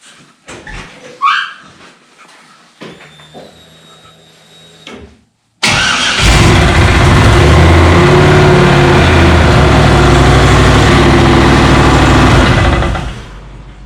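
A 1955 Chevy with an LS engine and a failing Turbo 350 transmission is cranked and fires up after some quiet handling noises. It then runs at a loud, steady idle with a rough mechanical drone for about eight seconds before cutting off.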